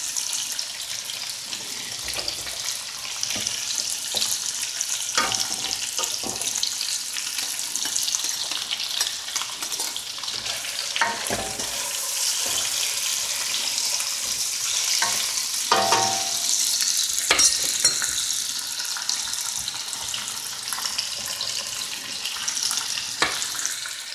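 Butter and garlic butter sizzle steadily in a pan for peppercorn sauce, a bright continuous crackle with occasional scraping and clinks of utensils throughout.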